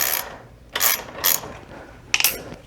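A hand ratchet clicking in short bursts while bolts are removed during a centerstand install on a 2022 Kawasaki KLR 650, four crisp close ratcheting runs with brief pauses between.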